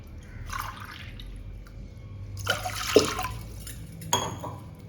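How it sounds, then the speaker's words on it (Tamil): Water splashes and trickles into a metal pressure cooker in a few short pours, with faint clinks of utensils between them; no one speaks. "அதுக்கு ஒரு 2 டம்ளர் அளவு தண்ணி ஊற்றிக்கலாம்"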